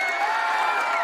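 Crowd cheering sound effect, a brief continuous roar of many voices and whoops, steady and fairly loud, with no gaps.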